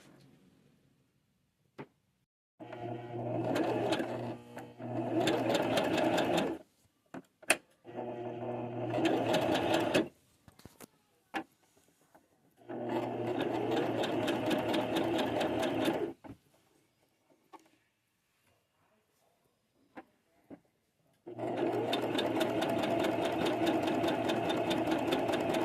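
Sewing machine stitching stacked jeans, running in several loud sustained bursts with short pauses between, close and alone without talk.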